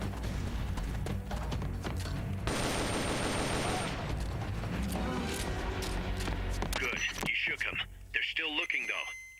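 Machine gun fire rattles through a combat scene in Metal Gear Solid: Peace Walker, dense bursts mixed with explosions and game effects, loud and sustained, with a short stretch of music and electronic sounds near the end.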